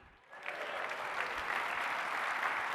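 Keynote audience at the Acumatica Summit 2021 conference breaks into applause, starting about half a second in and holding as a steady, dense wash of many hands clapping for the rest of the clip.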